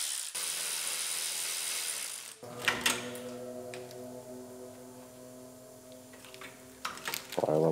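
A hand ratchet clicks steadily up close while unbolting the AC condenser on a 1993 Ford Mustang GT convertible, following a stretch of broadband hiss, with a few louder clunks near the end.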